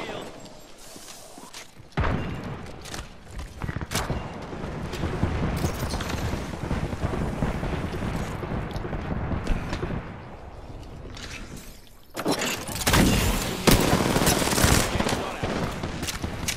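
In a squad-based shooter, a cluster strike fires as a dense, sustained barrage of rapid explosive bursts and gunfire. It sounds loud and continuous, with louder volleys toward the end.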